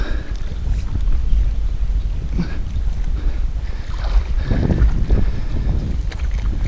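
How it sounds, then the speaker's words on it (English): Low rumbling of a boat motor passing on the River Trent, swelling louder midway, with wind buffeting the microphone. "we've got a boat coming now as well"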